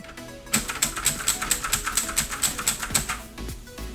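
Fast, steady typing on an EasternTimes Tech I-500 water-resistant mechanical keyboard during an N-key rollover test, with close, crisp key clacks in a regular rhythm and no talk.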